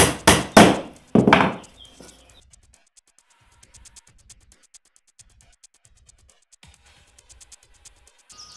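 A hammer drives nails into the wooden cube of an insect hotel with about four loud, sharp, close blows in quick succession. After that come only faint scattered taps and near silence.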